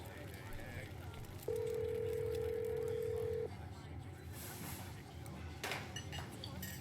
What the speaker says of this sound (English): Stella pulls out her phone and dials it, waiting while it rings.